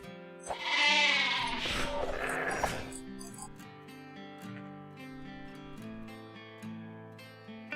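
Sheep in the video game Shroud of the Avatar bleat loudly in a wavering, drawn-out call, followed by steady synthetic tones and a few fainter bleats, with no talking.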